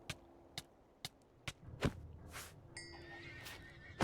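Horses in the Minecraft modpack Enigmatica 2 Expert neigh and whinny in a game mob farm, with repeated short sharp game sounds spaced out in a steady rhythm and a few longer whinny-like bursts over a low background hum.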